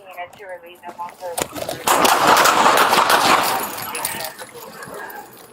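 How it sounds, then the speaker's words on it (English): Police gunshots during a tense LAPD bodycam confrontation with a knife-wielding man, with several sharp close reports in quick succession amid shouting voices, followed by a sustained loud noisy stretch. "Shots fired."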